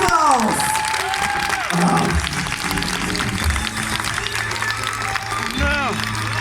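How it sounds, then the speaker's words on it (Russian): An audience at a live event claps in a continuous, moderately loud burst of applause, with cheering voices and chatter mixed through it. "Друзья, аплодисменты Лоунс."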